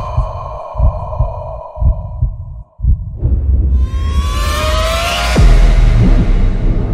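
A deep, thumping heartbeat effect in a hardstyle music event trailer beats in a steady rhythm of low pulses, then gives way to a rising, swelling synth sweep that grows loud and dense.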